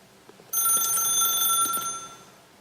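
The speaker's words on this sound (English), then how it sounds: "If you can truly place your faith in another, then pick up the phone." A telephone rings in the video game The Stanley Parable, one bright, sustained electronic ring that starts abruptly after a short quiet moment and holds for about a second and a half before fading.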